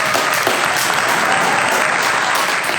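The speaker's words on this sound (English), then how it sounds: "I think we should clap first." Dense, steady applause from a lecture-hall audience, many hands clapping together at full loudness for the whole stretch with no break and no voices on top.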